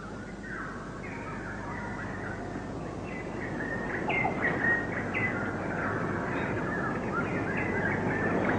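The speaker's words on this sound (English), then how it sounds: "The call of the Tapu bird, first on the left and then on the right" Call of the Tapu bird in a rural rice-farming setting, a series of thin, faint chirps repeating over a soft, steady outdoor hiss, with no voices.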